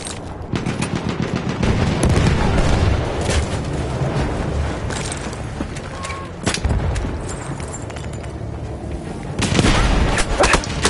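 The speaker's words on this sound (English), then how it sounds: "Enemy machine gun sighted!" Sustained machine gun fire in a first-person war video game, with rapid dense bursts that keep going almost without pause, loud and close, over a busy battle bed with occasional heavier booms.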